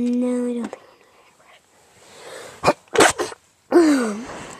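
A sharp sneeze bursts out in the middle of the clip as a quick cluster of noisy blasts, with voices speaking just before and after it.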